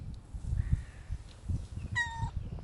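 Cats meow during a scuffle among a group of cats, with one clear drawn-out harmonic meow near the end over a low rumble of handling noise and movement.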